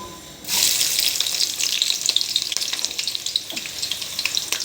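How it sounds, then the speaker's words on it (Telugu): Sliced onions and green chilies hit hot oil with a sudden loud rush of sizzling after a quiet start, then a steady crackling fry with scattered pops. "ఇవన్నీ వేసేసుకోండి ఉల్లిగడ్డలు పచ్చిమిరపకాయలు కలర్ మారే వరకు వేయించుకోవాలి"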